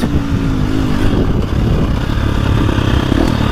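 A 2025 KTM 350 XC-F dirt bike engine runs loud and close, a buzzy rising rev with a gritty, rapid pulse over rumbling mechanical noise.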